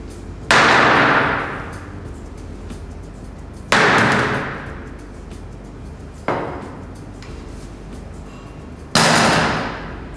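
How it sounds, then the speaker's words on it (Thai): A 300 g steel ball dropped from 60 cm onto a phone screen protected by shock-absorbing film: four separate sharp impacts, each a loud ringing clang that decays over a second or two, spaced a few seconds apart. "การปล่อยลูกเหล็กขนาด 300 กรัม ระยะความสูงถึง 60 เซนติเมตรลงสู่หน้าจอ"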